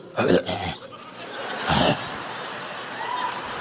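A voice imitates a fake, nervous cough: two short throaty bursts a moment apart, close to the listener, followed by quiet room noise.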